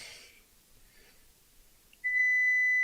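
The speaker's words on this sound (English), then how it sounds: "Whenever I hear the word Shelly, it makes a beep." A remote voice control app on an Android phone gives a single clear electronic beep, a steady high tone that starts sharply and holds to the end after a near-silent stretch.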